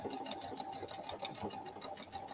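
A sewing machine runs continuously, working a decorative stitch on a scrappy fabric potholder, a faint steady whir with fast repeating needle clicks.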